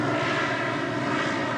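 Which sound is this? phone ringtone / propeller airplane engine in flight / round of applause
propeller airplane engine in flight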